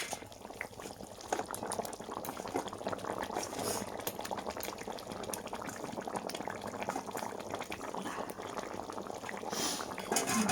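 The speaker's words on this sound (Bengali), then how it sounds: "মাছের আলু আর ডাঁটার ঝোলটা ফুটে গেছে" Rohu fish curry with potato and drumstick bubbling at a steady boil, a dense continuous simmering burble with fine popping running evenly throughout, close and moderately loud with no voices.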